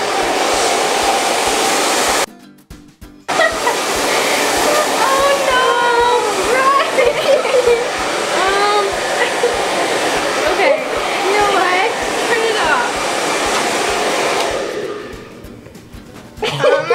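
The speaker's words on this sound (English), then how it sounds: "Okay, I'm gonna blow dry it." A hair dryer blows steadily and loudly on styled, moussed hair for most of the stretch, with a brief cut-off early on before the whoosh resumes, then fades near the end; talk is faint or absent beneath it.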